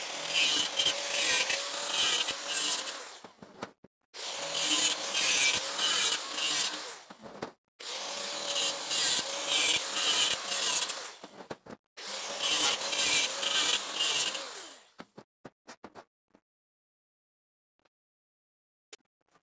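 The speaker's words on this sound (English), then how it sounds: "I'm just going to do that with the grinder really quick" Angle grinder working a wooden fuel piece, four loud harsh bursts of about three seconds each separated by short pauses, close and dominant, followed by a few faint clicks and near silence.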